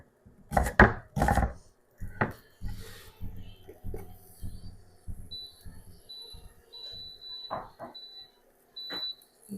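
A knife chops mushrooms on a wooden board in quick, uneven knocks, loud at first and then lighter and more spaced out, with a few faint electronic beeps in the background.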